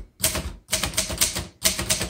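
A 1956 Underwood Golden Touch manual typewriter clatters through three quick bursts of rapid keystrokes, close and crisp, with short pauses between runs and no voices.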